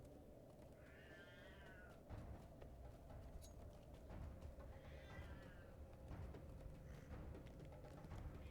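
A cat meows twice in Minas Morgul, a fantasy game area, each call a clear drawn-out mew a few seconds apart over a steady hum of game ambience.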